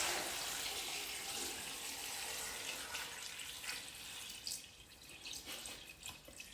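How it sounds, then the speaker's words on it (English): Water poured from a jug into a large 4 litre container for homemade banana wine, a steady splashing gush that thins into uneven trickles and drips toward the end, quiet with no voices. "Okay, so let's pour the water in."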